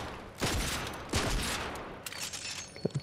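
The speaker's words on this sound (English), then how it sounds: "The makeshift revolver." A makeshift revolver fires in the video game Fortnite, with a few separate, fairly faint shots spaced apart and some small clicks near the end.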